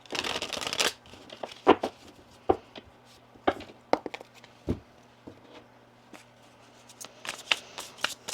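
Tarot cards being shuffled by hand in a quiet room, with crisp riffling bursts and a run of separate slaps and flicks spread across the clip. The sound is close and moderately loud, and no one speaks.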